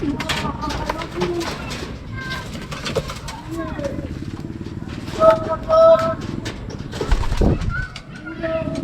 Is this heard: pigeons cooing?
yes